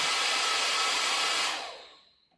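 A Babyliss Big Hair rotating hot air brush running at speed 1, a close, steady airy whir that holds level and then winds down to silence.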